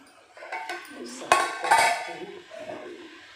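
Kitchen utensils and metal pots clatter as they are set down, giving a few sharp clinks and knocks with softer handling sounds between them, close to the microphone. Someone speaks over the clatter.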